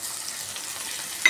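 Curry leaves, chilli, asafoetida, turmeric and salt fry in hot oil with a brief, even crackling sizzle, close and steady, ending on a small sharp click.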